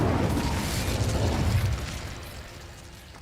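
An Incendio fire spell is cast in the video game Hogwarts Legacy, opening with a loud roaring burst of flame that holds for about a second and a half and then fades into a thinning hiss, with no talk.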